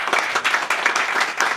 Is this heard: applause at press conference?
yes